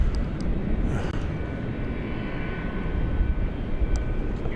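A departing aircraft, flight 2402 bound for Seattle, roars steadily at an airport at night, a loud continuous broadband engine rumble with no voices.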